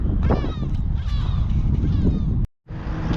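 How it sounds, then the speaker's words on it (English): Raucous seagull calls ring out repeatedly near Methil, harsh overlapping cries and squawks filling the air with barely a pause, one brief gap near the end. "those seagulls need to give it a rest."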